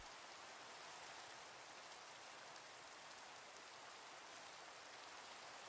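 Steady, quiet rainfall in a block-building video game, a soft even hiss that holds without pause from start to finish and carries no voices.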